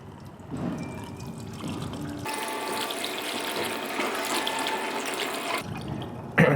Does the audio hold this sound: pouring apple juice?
yes